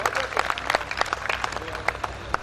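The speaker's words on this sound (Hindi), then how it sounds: "भैया इनको एक बार जोरदार ताली मेरी तरफ से ही बजाइए।" An audience applauds loudly at a 2012 Hindi poetry gathering (kavi sammelan) in Badaun, a dense, crackling burst of many hands clapping with some crowd noise mixed in, steady and sustained throughout.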